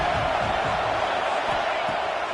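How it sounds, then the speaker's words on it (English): Stadium crowd at a football game roars steadily throughout, a dense, continuous wall of cheering and noise with no breaks. "This crowd bringing the energy and noise early."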